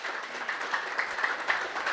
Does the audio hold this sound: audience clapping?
yes